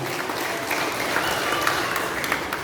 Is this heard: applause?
yes